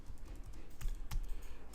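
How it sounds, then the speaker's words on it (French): Arrow keys on a computer keyboard are tapped in a quick, uneven series of soft, close clicks, with no talk over them. "je joue avec les flèches au clavier, gauche et droite, haut et bas"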